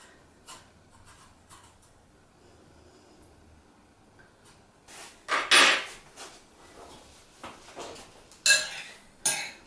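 Cooked acorn squash flesh being scraped out with a utensil, quiet at first, then a few louder close scrapes and clinks against the squash shell in short bursts, with no talking.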